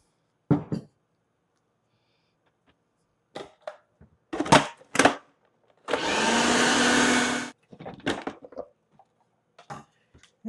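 A kitchen blender grinds ingredients with a splash of extra virgin olive oil in one loud, roaring burst of about a second and a half, set among scattered knocks and clatter.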